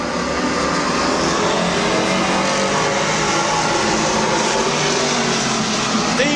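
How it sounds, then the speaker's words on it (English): Sport stock race cars roar around Midvale Speedway in a continuous, loud wash of engines. The pack noise stays dense and close with no breaks. "Steve Mallory in 38 takes over the lead."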